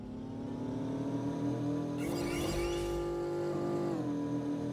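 Car engine revving in the Roblox video game, a steady motor drone that rises in pitch and intensity partway through before settling, loud and continuous with no talk.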